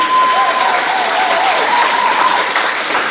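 A crowd applauds, a dense wash of clapping that holds steady for a few seconds, with a faint whistle or tone threading through.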